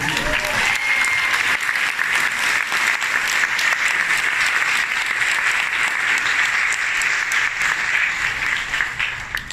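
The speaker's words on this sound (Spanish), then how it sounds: "así que un aplauso." Steady, dense applause fills a hall at a book talk in San Marcos, loud and close, holding without a break for nearly ten seconds.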